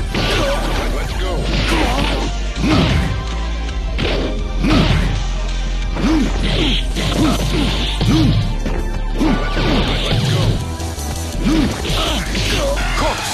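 Heavy smashing and thwacking hits land repeatedly in a Street Fighter III: 3rd Strike Online Edition match, loud impacts punctuated by whooshes, shouted character voices and grunts over a busy game soundtrack.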